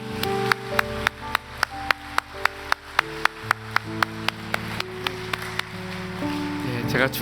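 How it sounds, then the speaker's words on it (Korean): A church congregation claps in praise at a Korean church vision seminar, with sharp, evenly spaced claps ringing out under sustained music and tones. "우리 하나님께 영광의 박수 올려드리겠습니다"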